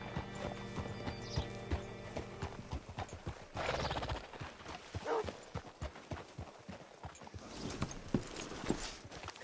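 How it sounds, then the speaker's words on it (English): Horse hooves clip-clop at a walk in Red Dead Redemption 2, with a horse neighing and whinnying partway through, fairly close over an ambient game soundscape. "Hitch your horse up here."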